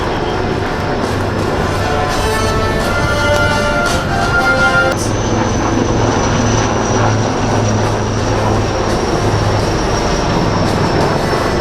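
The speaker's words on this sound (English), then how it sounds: "Next in line are the light combat helicopters Prachand of the Indian Air Force." Indian Air Force Prachand light combat helicopters flying in formation at the Aero India air show, a loud, continuous engine and rotor roar with steady droning tones that shift partway through.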